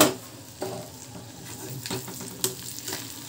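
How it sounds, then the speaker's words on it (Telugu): Chicken liver fries in a pan with a steady, close sizzle, broken by a few scraping stirs. "ఇక్కడైతే లివర్ ఫ్రై చేస్తున్నానండి"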